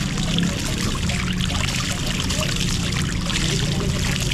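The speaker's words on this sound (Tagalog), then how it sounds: "Ito yung flowing na tuloy-tuloy ang labas ng tubig." Cold spring water pours steadily from an outlet in Balamban, Cebu, making a close, continuous rushing splash with no breaks.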